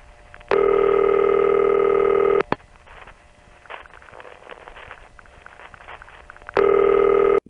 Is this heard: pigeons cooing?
no